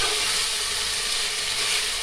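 Tomato and mixed vegetables frying in a pan for vegetable pulao, giving a steady, even sizzle and hiss with no breaks.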